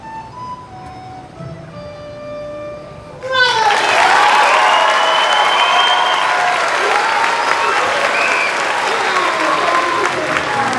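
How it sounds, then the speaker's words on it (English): Audience applause at an elementary school spring concert, starting abruptly after a quieter stretch with a faint voice and then continuing as steady, dense clapping with some children's voices and cheers mixed in. "Give a big round of applause to that girl."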